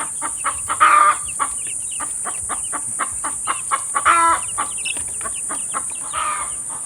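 Month-old chicks and chickens let out of their cage cluck and peep at close range, with repeated short calls and a few louder bursts over a steady high background hiss.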